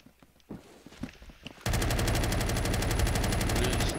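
Gunfire in the Roblox shooter Phantom Forces comes as a few scattered single shots, then breaks into a loud, sustained burst of rapid automatic fire that runs steadily to the end.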